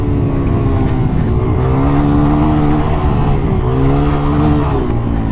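A motorcycle on a race track drops two gears under braking and goes to full throttle, a loud close engine drone with pitch dips and rises as revs change, steady and continuous with no talk.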